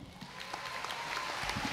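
Crowd applause at a school athletic awards night for an athlete of the year, a soft, continuous wash of clapping heard from a distance with faint murmuring voices.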